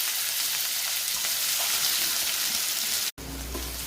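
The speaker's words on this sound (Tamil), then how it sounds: "வெங்காயம் வதங்கிடுச்சு" Onions sauté in hot oil with mustard seeds and curry leaves, making a steady, fairly quiet sizzle that runs continuously. It breaks off briefly near the end before resuming.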